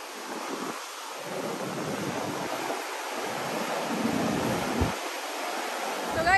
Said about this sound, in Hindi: पानी का शोर कितना तेज है ना